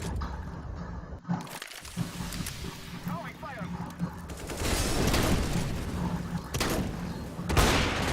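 A no-scope sniper rifle in CS:GO on the Dust 2 map fires a few sharp blasts amid steady game noise, while a voice talks over it.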